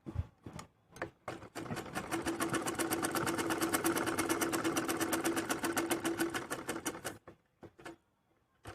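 A sewing machine stitches a palazzo seam in a steady, fast mechanical chatter for about five seconds. It starts and stops with a few separate clicks and sounds close but fairly quiet.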